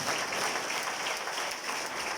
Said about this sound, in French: au gros applaudissement